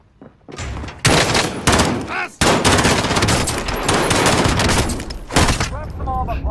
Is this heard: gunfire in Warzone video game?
yes